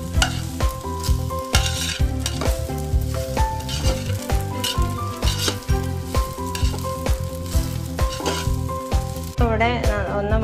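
Soaked rice and vegetables for pulao are stirred and sautéed in a pan, a steady close sizzle broken by repeated scraping stirs, with music playing underneath and a brief voice near the end.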